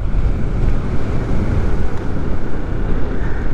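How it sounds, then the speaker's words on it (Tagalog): A cold breeze blowing on an open mountain road, loud steady buffeting wind rumbling against the microphone with no voices, a continuous dense roar throughout. "Lamig ng simoy ng hangin."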